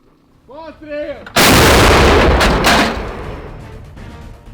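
A brief voice, then a single heavy blast from a self-propelled howitzer booms close by and rolls away in a long, fading rumble.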